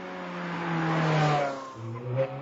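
The 4.3 litre V8 of a 2008 Ferrari 430 Scuderia revs up hard in one rising snarl, then drops back briefly before a short final blip, heard close and alone.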